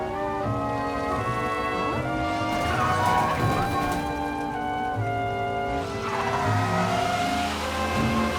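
A car in the Mafia: Definitive Edition video game revs and accelerates under shifting engine tones, loud and close, with game music and sound effects layered in the mix.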